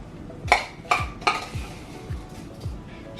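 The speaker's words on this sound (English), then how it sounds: "I'm just gonna go ahead and mix." A spoon stirs sugar into hot Jamaican sorrel drink liquid in a pot, several sharp clinks against the side in a steady rhythm, followed by quieter swishing strokes.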